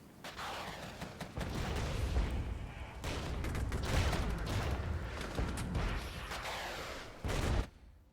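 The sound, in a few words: Bradley vehicles firing missiles at T-64 tanks in video game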